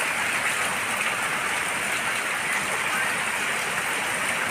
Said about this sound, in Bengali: এত জোরে বৃষ্টি পড়ছে